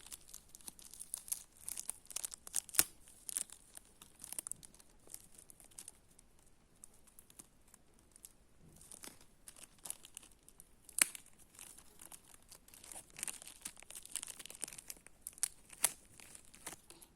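Packing tape is peeled and torn off a parcel, with crinkling plastic and paper, in short rustling bursts and tearing strips. The sounds are close and fairly quiet, with pauses between them.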